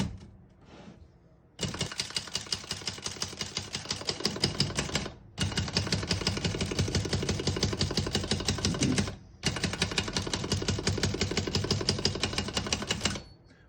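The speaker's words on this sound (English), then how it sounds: "Once you hear the bell, you're at the end of the margin." Rapid, steady keystrokes on a 1936 Remington Model 1 Noiseless typewriter in three long bursts separated by short pauses, close and loud, with mechanical clacks and no voices.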